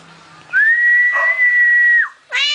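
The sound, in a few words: person whistling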